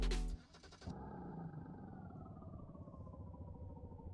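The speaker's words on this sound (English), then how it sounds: "That is a unique engine sound. It's really quiet, and then it's just loud." Car engine starting in the Automation game, a brief loud clattering burst of cranking, then a low, quiet idle rumble that continues steadily.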